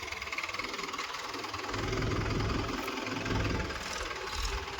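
A tractor engine runs nearby with a steady, low, knocking rumble that swells slightly midway, heard alone without talk.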